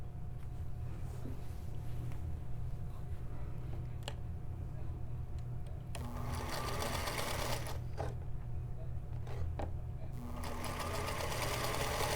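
A sewing machine stitches quilt rows together in two bursts of rapid, loud mechanical whirring and clatter, stopping briefly between them, over a steady background hum.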